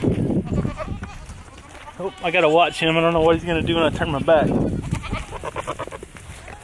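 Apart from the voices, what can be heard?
baby goats bleating for their mothers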